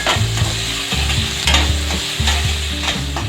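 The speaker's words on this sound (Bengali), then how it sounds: "একটু ভাজা ভাজা করে নেব।" Potatoes, onion and green chili with a pinch of salt fry in a pan, a continuous loud sizzle with a regular rhythm of spatula strokes stirring through the pieces, close up.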